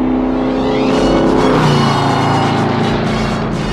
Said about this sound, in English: Wait, there's a car coming!